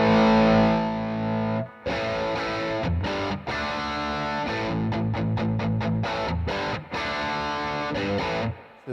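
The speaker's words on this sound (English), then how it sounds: "the master is now on 2 and the master of the overdrive is on 10" An electric guitar plays through an amp with the overdrive master on 10 and the main master on 2, giving loud, heavily distorted sustained chords followed by a run of choppy palm-muted stabs.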